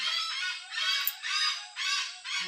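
A bird calls loudly and repeatedly, five harsh, buzzy honking bursts in a steady rhythm, close by with nothing else audible.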